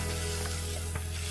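Mint leaves stirred into a hot, sizzling tempering for green mutton curry, giving a dense steady hiss with faint stirring scrapes and a low hum underneath.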